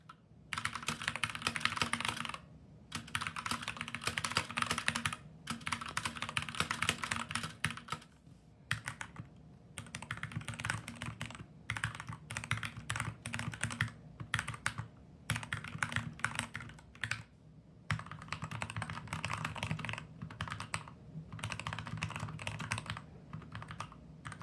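Fast, steady typing on a custom mechanical keyboard fitted with milky yellow switches, tape and foam, with dense clacking keystrokes in bursts and brief pauses between them, close and clear with no talking.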